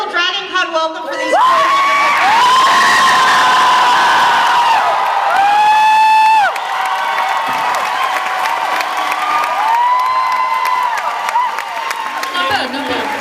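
A DragonCon panel audience erupts in a loud, sustained welcome, with whoops, cheers, high-pitched screams and clapping filling a packed convention hall for several seconds.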